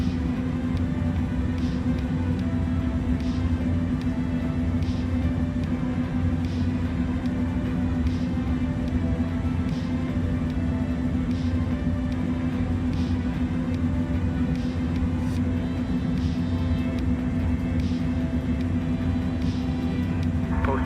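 Airbus A306 freighter on its takeoff roll in Microsoft Flight Simulator 2024, a steady loud engine rumble with a strong constant hum holding level throughout, faint periodic clicks above it.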